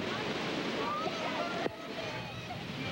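Raging floodwater in a river during flooding in Turkey, with a woman trapped in her car, makes a steady, loud, close roar of rushing water. The roar briefly dips partway through, then continues.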